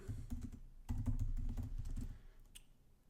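Code being typed on a computer keyboard: quick bursts of soft key clicks, close and quiet, with a brief pause midway.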